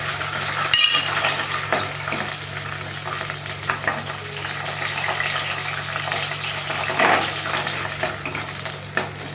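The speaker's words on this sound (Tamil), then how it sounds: "இது நல்லா வதங்கி வரட்டும்" Garlic and small shallots sautéing in oil in a pan for a coconut milk fish curry, a steady broadband frying hiss with occasional utensil scrapes and a faint low hum underneath, no talking.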